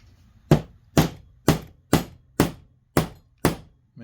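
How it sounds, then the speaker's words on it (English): A hammer drives an axle shaft into a gear while assembling an Antikythera mechanism kit. Seven sharp, close taps land evenly about every half second, with no talking. "we're going to drive the Olympiad axle into the gear"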